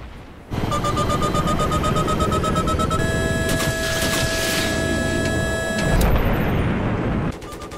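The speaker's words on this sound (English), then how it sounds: "Now here's the sound of you targeting an enemy." Jet missile lock tone from the video game Battlefield 3, heard while targeting an enemy: a steady, high-pitched electronic tone held for several seconds over loud, continuous engine roar and in-game noise.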